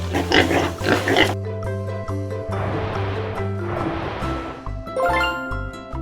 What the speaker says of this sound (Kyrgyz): Чочко.